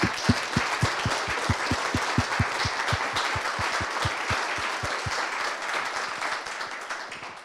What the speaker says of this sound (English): give yourself a kind of massive round of applause for all you've done over that time